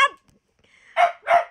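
A small dog barks twice in quick succession, close and fairly loud, after a brief voice at the start.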